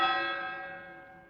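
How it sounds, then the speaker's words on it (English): A single deep church bell strike for the New Year rings out clearly and decays slowly, its rich ringing tones fading away alone with no voices. "the bells are made ready to ring in and welcome the start of the new"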